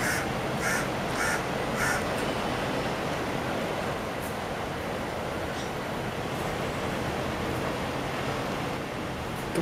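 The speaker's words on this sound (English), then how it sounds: "Singapore birds." Crows cawing in Singapore, a few harsh caws in a quick run near the start and scattered later, set against a constant loud wash of outdoor noise.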